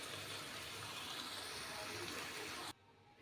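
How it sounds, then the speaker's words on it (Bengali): Cooked vegetarian ridge gourd and potato curry is poured into a container, giving a steady, soft, watery gush that cuts off abruptly near the end. "নামিয়ে কন্টেনারে ঢেলে দিয়েছি।"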